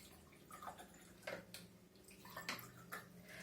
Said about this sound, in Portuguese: Primeiramente a gente vai colocar água em todos os recipientes.